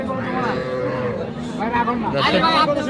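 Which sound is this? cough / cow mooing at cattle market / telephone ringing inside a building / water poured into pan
cow mooing at cattle market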